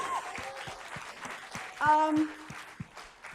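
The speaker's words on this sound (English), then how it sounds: "Let's get an applause for that one." Scattered audience applause at a closing ceremony, a thin spread of separate claps, fairly quiet, with a voice speaking and a brief tonal sound partway through.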